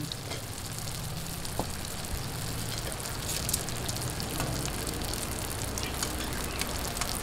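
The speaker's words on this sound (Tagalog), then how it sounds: "Piprituhin lang po natin to hanggang sa mag-golden brown" Ube cheese tikoy rolls frying in hot oil until golden brown, a steady dense sizzle with faint crackles and pops, continuous and close throughout.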